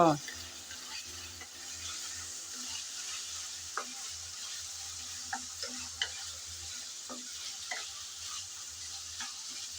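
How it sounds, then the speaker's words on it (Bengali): Prawns rubbed with salt and turmeric fry together with potatoes in a pan, giving a steady low sizzle throughout, with occasional clicks of stirring utensils. "চিংড়ি মাছ আমি লবণ আর হলুদ মেখে রেখেছিলাম এখন আলুর সাথে সামান্য ভেজে নেব"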